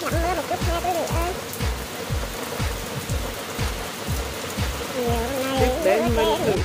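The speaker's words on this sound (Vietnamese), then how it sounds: "Trời đang mưa" Rain falls steadily and heavily on a surface outdoors while sweet potatoes cook, a constant hiss with dense close drops, and a voice talks over it throughout.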